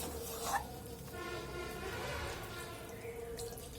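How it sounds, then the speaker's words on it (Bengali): Water pours into a pot of shukto, a Bengali vegetable curry, a soft steady trickle and splash close by for several seconds, fairly quiet. "এরপর জল দিয়ে নেওয়া হচ্ছে"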